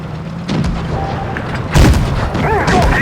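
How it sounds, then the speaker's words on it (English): A tank cannon fires in a tank video game, a single heavy boom landing about midway and trailing off into rumbling engine and battlefield noise. "I take a shot from the Triumphant."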